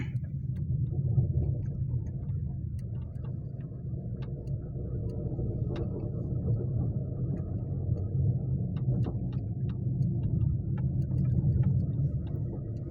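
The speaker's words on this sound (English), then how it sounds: "now we are going to park the car here" A car drives along a road through farmland, giving a steady low engine rumble and road noise with small ticks and knocks throughout, close and continuous with no talk.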